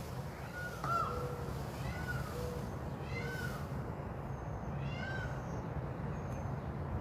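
Outdoors early in the morning in Pomona, a wild cat gives several faint meows spread over a few seconds, heard against a steady hiss of background noise, with no one talking.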